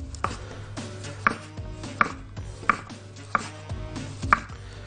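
Knife chopping tomatoes on a cutting board for a layered tuna salad, five or six crisp, evenly spaced knife strikes close up with no talking.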